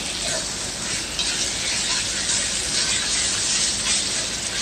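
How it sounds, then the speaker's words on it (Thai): Pork with curry paste and fish sauce stir-fries in a pan, giving a loud, steady sizzle with continuous hiss and scraping stirs throughout, close and alone. "ตามด้วยหมูได้เลยค่ะ แล้วเราก็ผัดให้เข้ากันนะคะ"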